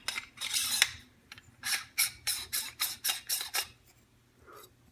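Metal parts of a GEMTECH GM-45 suppressor are twisted back together by hand, giving a close series of about eight short, rhythmic ratcheting scrapes and clicks, with no talking.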